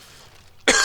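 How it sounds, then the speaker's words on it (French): A single sharp, loud cough bursts out close to the microphone at the very end of the clip, after near silence. "désolé aussi si je tousse"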